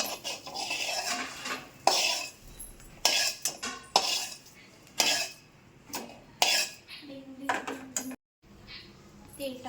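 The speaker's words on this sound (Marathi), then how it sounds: "आता भाजली भेंडी, आता काढून घेत आहे." Roasted okra being lifted out of a pan produces a series of metal utensil scrapes and clinks against cookware in irregular bursts, fairly close, with brief pauses and a short silence near the end.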